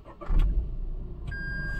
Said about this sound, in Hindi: अभी मैं चालू करता हूँ गाड़ी